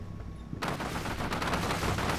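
Sustained gunfire from the Combat Mission Black Sea war game erupts after a brief quiet start, dense overlapping bursts of automatic fire rattling continuously and loudly.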